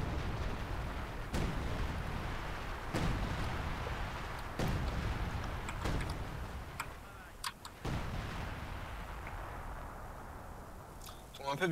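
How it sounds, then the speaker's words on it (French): Artillery shells landing in a WWII strategy game: about five sharp, booming impacts spaced a second or two apart, each followed by a rumbling tail over a steady low battlefield bed. "Ils tombent un peu bizarrement les obus quand même"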